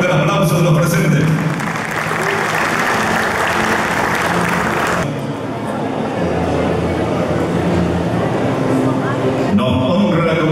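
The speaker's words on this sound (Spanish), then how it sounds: "Fuerte el aplauso de los presentes." Dense applause from a crowd at the official opening of the AgroShow Copronar 2023 agricultural fair, loud and sustained, with a brief dip midway before clapping resumes.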